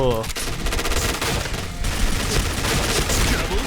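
An HK416 rifle in the shooter game Point Blank fires in rapid, dense bursts, loud and continuous, with a voice speaking over the gunfire.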